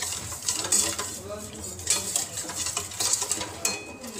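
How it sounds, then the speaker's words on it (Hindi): Whipping cream stirred in a pan over a low flame: soft, continuous scraping and swirling of a utensil against the metal, close and fairly quiet, with faint light clinks scattered throughout. "बस इसको ऐसे घुमाते रहना है,"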